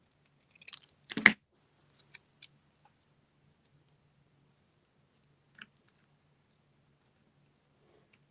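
Paper trimmed for a handmade card: a quick crisp cut near the start, then a few sparse soft clicks and taps in an otherwise quiet space.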